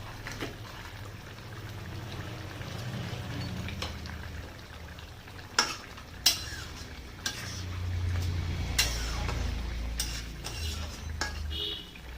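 Fried lentil dumplings go into a simmering tilapia curry, giving several soft plops and scraping stirs over a low bubbling background, fairly quiet and close.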